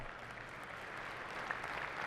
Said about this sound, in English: is what's known as a smattering of applause